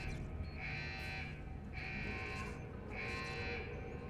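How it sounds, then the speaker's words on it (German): A security alarm in Deus Ex: Human Revolution sounds in repeated pulsing electronic tones, three evenly spaced bursts over a constant low background hum. "Jetzt warten wir mal, bis der Alarm weg ist"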